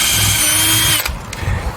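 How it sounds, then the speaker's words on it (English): A power drill whirs loudly as it re-drills a hole in a wooden ramp-launcher part, running steadily for about a second before cutting off, followed by a brief clack and low handling noise. "So I'm just going to re-drill it in the middle."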